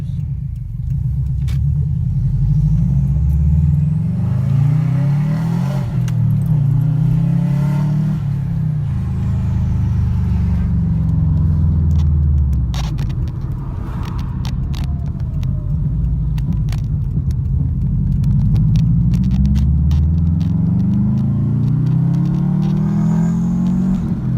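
A car engine, just repaired, idles steadily and loudly for the whole stretch, with a low rumbling drone that rises and falls slightly in pitch, with no talk.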